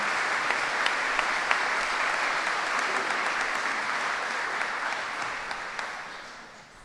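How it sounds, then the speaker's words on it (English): Audience at a high school academic achievement awards ceremony applauds service members, a sustained, even round of clapping from a large crowd that gradually fades toward the end. "a nice round of applause for both our enlisted people and our service members"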